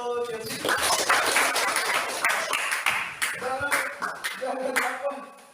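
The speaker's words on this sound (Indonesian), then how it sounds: "tepuk tangan untuk Chelsea." A small group claps briefly while voices talk over and after it, the clapping uneven and fading into chatter.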